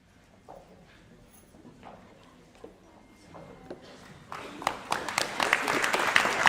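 Applause from an audience at a nursing pinning ceremony starts as scattered claps and footsteps, then swells into dense, louder clapping toward the end.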